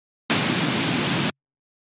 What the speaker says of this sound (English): And this is just going to sound like noise.